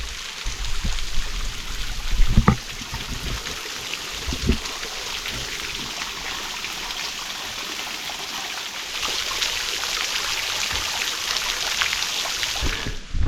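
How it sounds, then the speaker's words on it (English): A waterfall near Pindar Cave in Brisbane Water National Park gives a steady, close rushing hiss of flowing water, with a few brief knocks and scuffs from footsteps on the track. "It looks like I'm standing on top of the waterfall."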